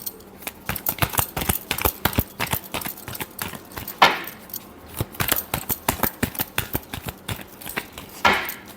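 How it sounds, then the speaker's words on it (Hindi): Tarot cards shuffled by hand in a rapid series of crisp, close riffling snaps and flicks, with a couple of louder bridging flutters near the middle and end. "Last shuffle."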